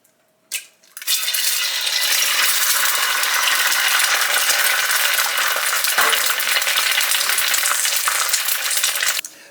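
An egg for bibimbap cooking in a pan, starting with a clink, then a sudden loud, steady sizzle of hot oil that carries on evenly to the end.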